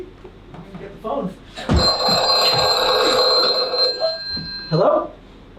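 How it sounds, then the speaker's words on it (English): An old-style telephone bell rings loudly and steadily for about two seconds in an indoor scene, with voices talking before and after the ring. "Get the phone."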